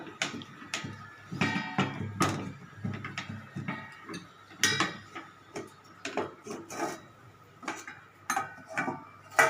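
A lid being handled on a pot of boiling curry with lentil fritters, giving a series of close metallic clinks and knocks in an irregular rhythm, with faint bubbling underneath.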